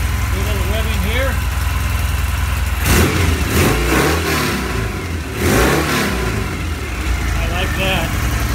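A vintage British motorcycle engine idles with a steady low thrum at about 1500 RPM, then revs up twice in strong surges before settling back, with someone talking faintly over it.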